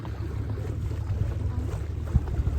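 A boat passes on a backwater at Munroe Island, a low steady engine rumble mixed with wind noise on the microphone, fairly close and continuous.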